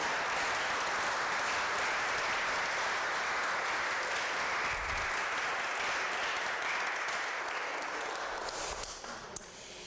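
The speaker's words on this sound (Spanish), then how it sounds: "Aplaudan esa república española." An audience applauding at a talk on the painter Vela Zanetti, with steady, dense clapping that holds at full strength for several seconds before tapering slightly at the end, with no speech over it.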